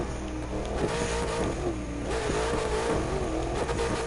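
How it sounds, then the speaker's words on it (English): A BA engine races hard in The Crew 2 on a hill-climb road, a sustained loud rising and wavering engine roar with steady revving and no pauses. "just listen to the sound of the BA engine"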